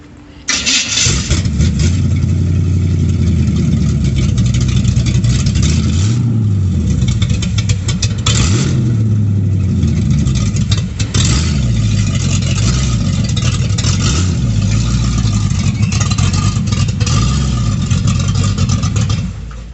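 A 1937 Dodge Brothers car engine with a radical cam runs close and loud, its lumpy, uneven idle loping rhythmically with occasional blips of revving throughout.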